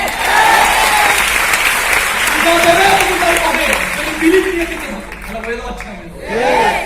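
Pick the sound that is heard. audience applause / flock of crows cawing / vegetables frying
audience applause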